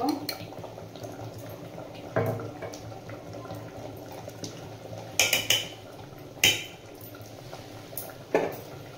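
Veg khichdi with garam masala and a spoon of ghee being mixed in a pot, with occasional sharp clanks of the spoon against the metal over a soft, steady bubbling hiss, and no voices.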